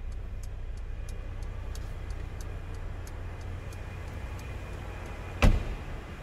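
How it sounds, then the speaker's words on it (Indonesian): Hazard lights on a Mercedes-Benz GLB 200 Edition 50 ticking in a steady, even rhythm of soft clicks over a low engine hum, with a single louder thump near the end. "Sebelum ke belakang kita hidupin dulu hazardnya."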